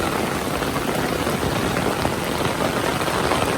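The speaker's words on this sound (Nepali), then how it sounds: "मुसलधारे पानी परिरहेछ है।" Heavy downpour of rain in rural Nepal, a steady, dense, even hiss of pouring water with no break, close and loud throughout.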